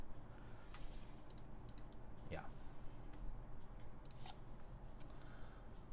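Keys clack on an aluminum gasket-mount mechanical keyboard with a polypropylene plate, a MM Studio Class65 V3 build, in quick irregular bursts of crisp clicks under soft background noise, with a brief spoken word.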